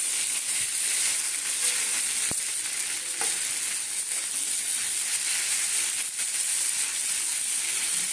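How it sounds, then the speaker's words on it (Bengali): Food sizzles steadily in a pan while chire paneer pulao is being made, a dense, even crackle with a few small clicks and pops and no voices. "সুন্দর লাল লাল করে ভেজে নেবো একদম।"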